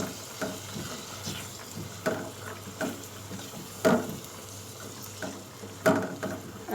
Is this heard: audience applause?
no